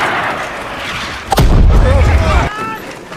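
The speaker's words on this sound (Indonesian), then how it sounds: "tiba-tiba sebuah mortir meledak dan mengejutkan mereka" A mortar shell bursts on a German front line with one sharp, loud blast, followed by a heavy low rumble that lingers for about a second before fading.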